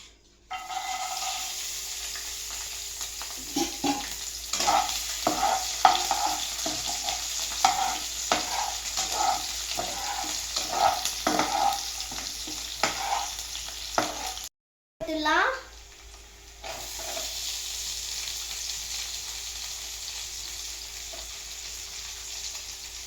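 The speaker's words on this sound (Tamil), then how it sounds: "இப்போ நம்ம பூண்டு காஞ்ச மிளகாவும் போட்டு நல்லா வதக்கிடலாம்." Garlic and dried chillies fry and sizzle steadily in hot oil for dragon chicken, with a spoon stirring and scraping the pan in a busy rhythm and a brief break partway through.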